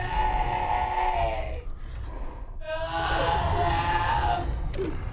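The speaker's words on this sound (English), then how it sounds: "this bear is terrifying. It's absolutely horrific. Not only in its looks, but the fact that it screams" A horror-film creature bear gives out shrill, human-like screams in two long wailing bursts separated by a brief gap, loud and close with no other voices.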